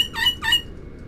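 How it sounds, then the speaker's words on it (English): Pigeons and other birds squawk twice in quick succession on a rooftop, two short harsh calls close by, then fading to quiet background. "So you lot, birds kicking off, as always."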